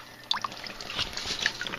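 Water spurts and trickles into a secondary aeration bin of a pipeless aquaponic system, a steady close splashing with scattered bright drips throughout, no talking.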